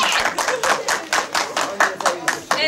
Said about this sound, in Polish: Dla nich też ogromne brawa.